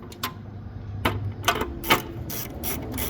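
Ratchet clicking as it loosens ignition coil bolts on a Hyundai Accent during a spark plug and coil job, with several short bursts of rapid clicks spread across the clip at close range.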